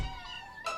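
A cartoon kitten gives one short, high meow, fairly close and clear, followed by the start of a second squeak.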